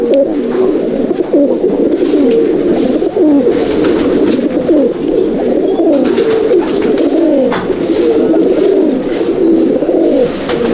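Pigeons of an Andhra breeder's champion loft coo continuously in a dense, overlapping chorus, loud and close, with soft rustling behind.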